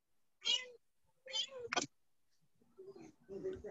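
A cat meows several times in short, separate calls, close and clear, with brief quiet gaps and some faint voices near the end.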